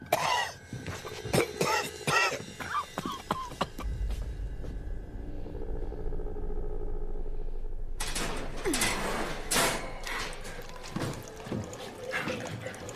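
A few sharp, close coughs at the start, then a quieter rumbling stretch, followed by more bursts of coughing and throat clearing.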